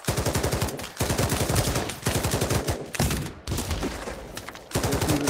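Shotgun fire in the VR game Pavlov Shack on Oculus Quest 2: loud, close bursts of shooting repeat in a steady rhythm about once a second, each trailing a rattling tail, with almost no talk.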